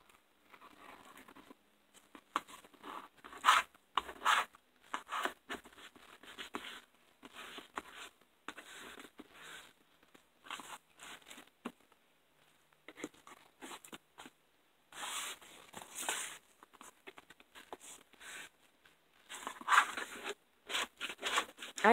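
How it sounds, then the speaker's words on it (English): A bone folder rubs and scrapes along the spine of a hardcover journal in soft, irregular strokes, faint and close with short pauses between passes. "I'm gonna go back in and make sure that my spine is well taken care of with my bone folder."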